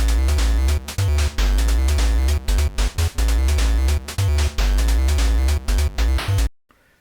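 Busy BeepBox chiptune music for an underground game stage, with buzzy square-wave tones and repeating notes smeared by an echo delay, loud and continuous before cutting off abruptly.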